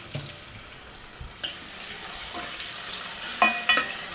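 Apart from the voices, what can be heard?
chicken curry ingredients frying in a pan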